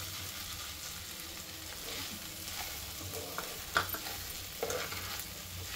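Okra and boondi frying in a pan give a quiet, steady sizzle, broken by a few soft scraping stirs near the end. No one speaks.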